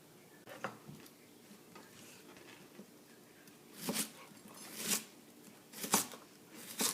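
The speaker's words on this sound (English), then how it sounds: "Poblano chilies, almost done cutting them up" A knife chops poblano chilies on a cutting board at home, giving sharp, separate knocks spaced about a second apart, with a few lighter taps between them, close and fairly quiet.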